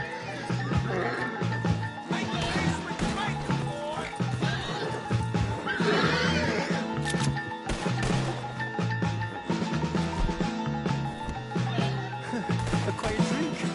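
Horse whinnying and snorting in Red Dead Redemption 2, heard amid game ambience, music and voices; the neighs rise clearly over a busy, loud scene.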